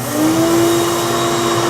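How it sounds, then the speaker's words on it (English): A shop dust collector switched on with a blast gate open, giving a loud steady roaring whoosh with a rising whine at the start that holds constant throughout, with no voices. "So now we're going to turn it on."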